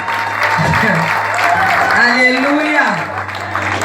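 A church congregation at a Sunday service applauds and cheers a boxing champion, a dense, steady clapping that lasts throughout, with a raised voice calling out over it.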